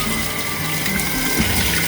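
Running water rinses cleaning solution off a Seeburg 3WA jukebox part being washed for restoration, a steady, close, continuous gushing and splashing like a tap or hose with no pauses.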